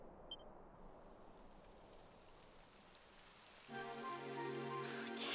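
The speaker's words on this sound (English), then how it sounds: "It would have to go and start raining, wouldn't it?" Rain falls steadily as a soft, even hiss in the Dragon Quest XI game world. Near the end a louder tonal game sound comes in over it.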